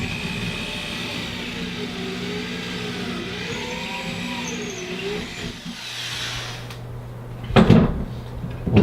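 A drill with a specialty pocket-hole bit bores a shallow hole in a clamped board for a train layout fascia, its motor whining steadily with rising and falling pitch, then stopping before a couple of short knocks and clatter near the end.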